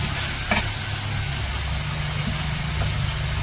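Spices and fish sizzle steadily in a hot frying pan, a continuous close hiss with occasional stirring scrapes and a low background hum.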